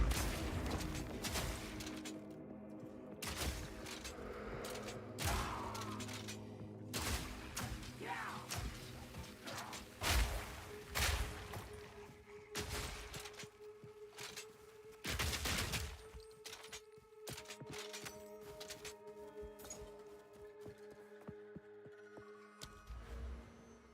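Repeated explosions from ballista-style attacks in the action RPG Path of Exile 2, a rapid run of sharp bursts layered over a steady game soundtrack, busy and dense throughout with no speech.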